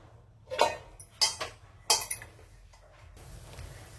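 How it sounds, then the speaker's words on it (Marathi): A metal lid is set onto an appe pan with three separate clinks and knocks, crisp and close, followed by a faint hiss. "आणि याचं झाकण लावू आपण"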